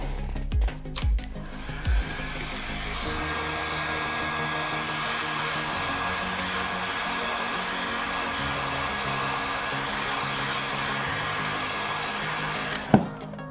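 A heat gun blows steadily to warm the screen of a Samsung Galaxy S20 Plus during a repair, a constant close airy roar, with a few brief clicks at the start and one sharp tap near the end.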